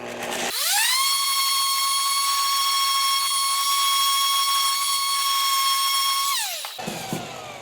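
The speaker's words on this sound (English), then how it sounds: "taking my orbital sander" An orbital sander works over a wooden Windsor chair, whirring up to a steady, loud high-pitched whine that holds for about six seconds before spinning down.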